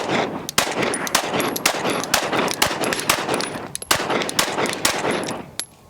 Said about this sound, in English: 10 rounds. All my shots are high and to the right.